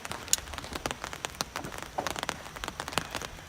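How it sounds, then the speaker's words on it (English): Rain falling outdoors during a wiffle ball game: scattered raindrops tap and patter on a nearby surface in an irregular, fairly quiet rhythm, with no talking. "Sorry for the inconvenience of y'all hearing the rain."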